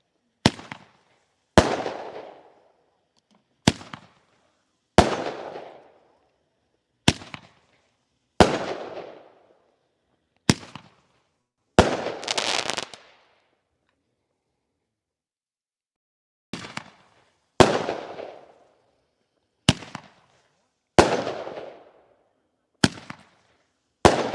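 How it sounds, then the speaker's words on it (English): Dr. Boom Roman candle fireworks shoot off at a Fourth of July display: about a dozen sharp, loud pops spaced a second or two apart, with a short crackling burst and a pause midway before the rhythmic shots resume. "The first thing is going to be the Dr. Boom Roman candle."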